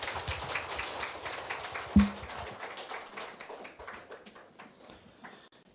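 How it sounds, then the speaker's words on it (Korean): Church congregation at a Sunday worship service clapping together, a quiet scattered patter of hands that swells briefly and fades out over a few seconds. "다 같이 박수 쳐주십시오"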